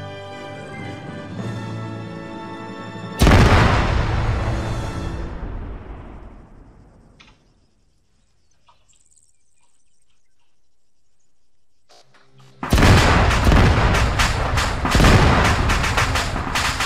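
Explosion in the Arma 3 military game: a sudden loud boom rolls off over several seconds into near silence, then a second heavy blast-like roar erupts and carries on loudly to the end.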